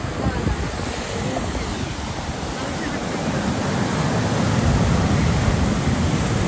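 Ocean surf rolls in steadily at Brown Beach in Negombo, Sri Lanka, a continuous broadband wash of breaking waves mixed with gusty wind buffeting the microphone, growing slightly louder toward the end.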